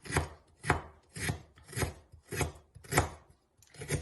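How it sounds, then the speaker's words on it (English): Ginger root sliced thin with a curved ulu knife on a board, about eight crisp, evenly spaced chopping strokes, close and clear with no voices. "You can actually just slice them really thin."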